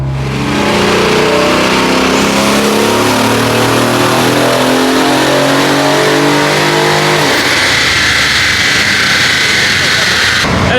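On a dyno, a twin-turbo Mercedes M278 V8 in a CLS550 or E550 revs hard and loud, its pitch rising steadily through a long pull, then drops off to a whooshing wind-down.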